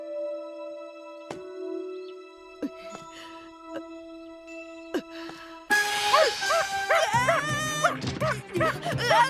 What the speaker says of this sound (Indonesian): Anjing di sini selalu menggonggong.